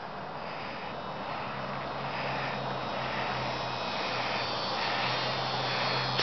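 Super Cub RC model airplane flying at night in calm conditions, a steady engine drone that swells gradually as the plane approaches, moderately loud with no speech.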